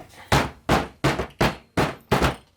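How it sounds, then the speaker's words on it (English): A bucket of freshly mixed silicone mold material is banged down six times at an even, steady pace, each blow a sharp, close thud. "I'm just going to bang it a few"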